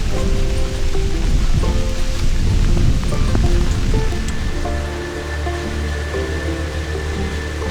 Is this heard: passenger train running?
no